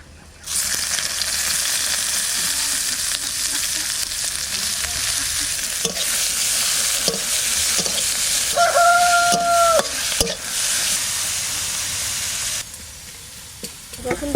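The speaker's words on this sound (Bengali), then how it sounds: "এবার পেঁয়াজ কুচি দিয়ে দিচ্ছি" Loud, continuous sizzling of chopped onions frying in hot oil, with occasional scraping stirs and a brief tonal squeak near the end.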